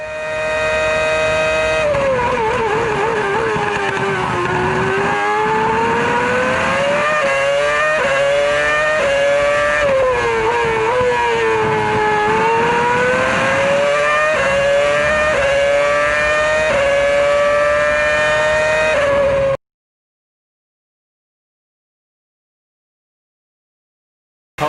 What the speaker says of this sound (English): Pole position lap with Kimi Räikkönen in the Ferrari.